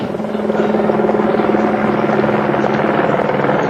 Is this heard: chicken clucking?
no